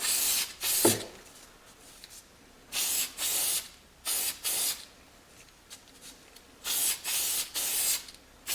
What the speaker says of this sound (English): Spray the inside too.